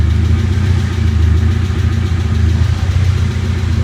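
A 1990 BMW E30 318is engine running at idle gives a close, loud, steady low rumble with an even mechanical pulse and no talk over it.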